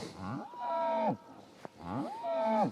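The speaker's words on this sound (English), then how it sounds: "Getting visited by cows, lots and lots to come and say hello." Cattle near St Benet's Abbey in the Norfolk Broads moo twice, two long, loud, close calls with a short gap between them.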